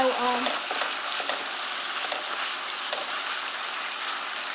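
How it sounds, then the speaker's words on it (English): Hamburger meat browning in a hot pan, a loud, close, continuous sizzle with the scrape of stirring. "now my hamburger meat is browning a little bit"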